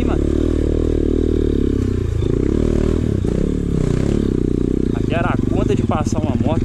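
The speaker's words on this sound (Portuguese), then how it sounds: "Passar uma moto." A motorcycle rides along a dirt trail with a rough, continuous engine drone, clattering and scraping over the ground, while people talk over it toward the end.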